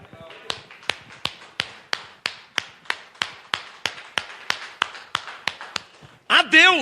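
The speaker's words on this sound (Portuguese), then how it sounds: "Essas palmas são a Deus." A church congregation claps hands in steady unison rhythm, about eighteen crisp, evenly spaced claps close by, before a loud voice breaks in at the end.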